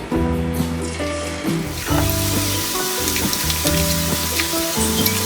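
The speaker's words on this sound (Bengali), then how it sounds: "রান্নাটা আমি সাদা তেলেই করব। আমি ডুবো তেল দিয়েছি। ভাজাটা আমার ভাজতে হবে" Potatoes deep-frying one by one in white cooking oil, giving a steady crackling sizzle with spattering bursts, close and fairly loud, over faint background music and no talk.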